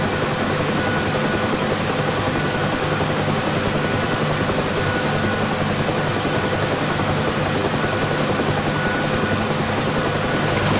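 A UH-1 Huey helicopter in DCS descending to a vertical landing, a loud, constant rotor and turbine roar with a steady drone and no talk.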